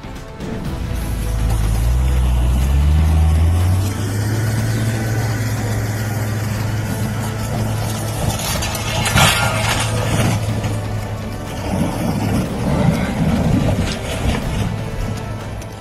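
A truck engine labours hard in a ditch, a heavy low rumble with a rising rev near the start that then settles into sustained straining, loud and close, with some rough noise later.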